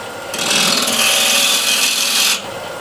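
A ball gouge cuts into a solid osage orange wood block spinning on a lathe at 1200 RPM, giving a loud, steady, rough scraping rasp for about two seconds with no talk.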